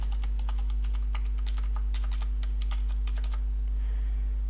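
Rapid keystrokes on a computer keyboard as a card number is entered, a run of close clicks over a constant electrical hum, fading out to quiet near the end.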